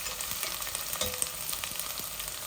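A medium onion added to garlic already browning in hot oil: a short, steady, moderately loud sizzle with light crackles and no voices.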